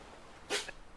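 A single short sneeze, close and fairly loud, bursts out of a quiet room with soft background hiss.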